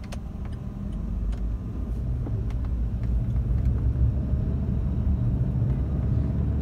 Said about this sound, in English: changing the gear to drive, and yes, off we go